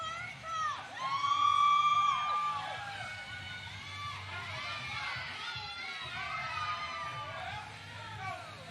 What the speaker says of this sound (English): Still got a nice crowd here.